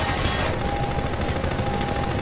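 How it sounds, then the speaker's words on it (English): Helicopters in Half-Life 2 fire pulse weapons in a sustained, rapid, machine-gun-like burst that stays loud and continuous, with a steady high whine running underneath. "Those are choppers shooting at me."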